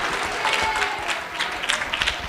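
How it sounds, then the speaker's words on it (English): Steady applause fills a mock Senate session after the senator from Rhode Island speaks, a dense, even patter of many hands clapping with no voices above it. "round of applause for the senator from Rhode Island"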